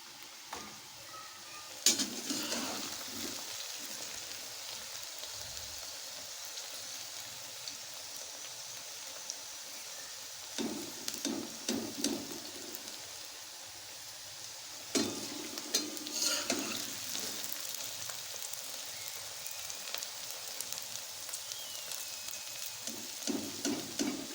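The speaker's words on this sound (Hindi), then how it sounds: "हमने भिंडियाँ निकाल ली हैं जो फ्राई की थी" Okra (bhindi) frying in hot oil in a village-style kitchen, a steady soft sizzle with crackles and occasional louder stirring scrapes, close and continuous without talk.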